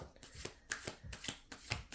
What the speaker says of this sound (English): I look away to shuffle the cards